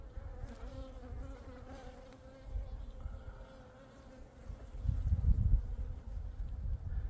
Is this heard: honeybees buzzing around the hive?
yes